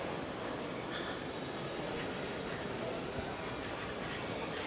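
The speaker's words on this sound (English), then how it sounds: "That's the R train. That's what I took here today." New York City subway R train passing, a dense continuous rumble and roar of wheels on track, steady and fairly close, with no voices.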